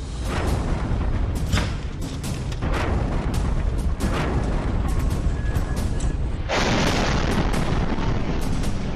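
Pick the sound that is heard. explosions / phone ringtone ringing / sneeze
explosions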